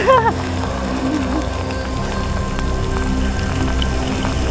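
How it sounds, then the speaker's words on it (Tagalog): Steady heavy rain hisses and patters continuously, loud and close, with a brief voice at the start, during a car-free Sunday at Ayala. "Ang lakas ang ulan."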